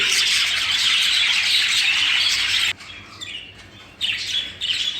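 Budgerigars chirping in a breeding aviary, a dense, continuous chatter of many birds close by that drops briefly before resuming, with no speech.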